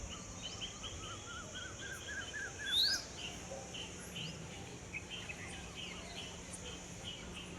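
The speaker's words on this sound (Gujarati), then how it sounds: "એટલા બધા જ પક્ષી બોલે ને" Faint bird chirps and calls scatter across a quiet, hissy outdoor background, with one brief louder tweet in the middle.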